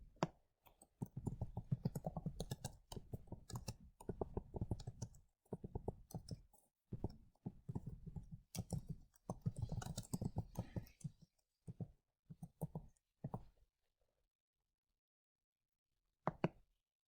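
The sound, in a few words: typing text on a computer keyboard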